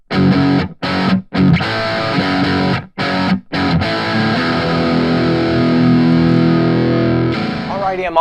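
A heavily distorted electric guitar plays chugging chords, then sustains a thick, saturated note that rings out before a short squealing flourish.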